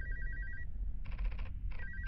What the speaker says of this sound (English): It was a phone call.